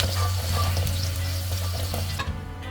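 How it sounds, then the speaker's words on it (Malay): Shallots and garlic sizzle and crackle in hot oil, with a steady low hum underneath and occasional stirring scrapes, close and alone. "Goreng bawang, pastikan minyak panas, sentiasa kacau."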